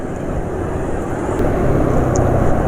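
A motorcycle engine running rough while riding, just after an oil change to Meditran LE Ultimate 15W40, gives a steady, dense drone that builds slightly in loudness, with no voices over it.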